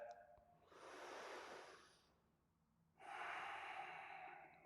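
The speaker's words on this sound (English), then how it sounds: "One more deep breath." A deep breath during a vinyasa yoga class: a long, soft inhale through the nose, a short pause, then a fuller, louder exhale, close and breathy with no speech.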